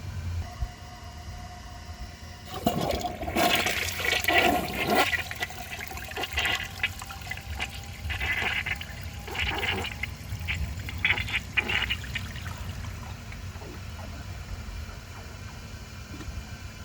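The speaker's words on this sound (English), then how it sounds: "I'm going to wait for the tank to refill and it'll probably unclog itself." A 1990 Peerless concealed jet toilet tank refills with hissing, gurgling water, starting abruptly after a quiet moment and surging in several loud bursts before easing to a steady rush.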